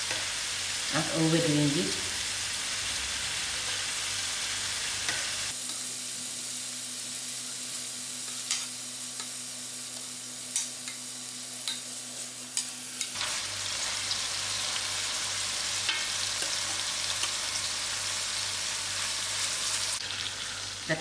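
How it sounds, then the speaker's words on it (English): Prawns frying in a pan for a prawn and chicken curry make a close, continuous crackling sizzle. It dulls to a quieter hum through the middle and then returns, with a short spoken phrase over it. "Just allow it to fry for about 2 minutes on either side"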